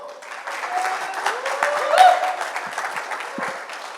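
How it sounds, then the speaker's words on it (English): An audience at a startup demo day applauds for a managing director, with steady clapping rising to a peak midway and then easing off, and faint voices underneath. "Please, a round of applause for Oscar."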